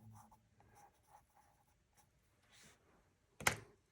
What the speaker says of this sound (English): I'm extending the rock with a pencil